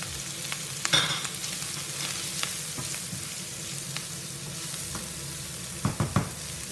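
Onions sizzle steadily as they fry in a pan, a continuous close crackle with a few sharper stirring clatters near the end.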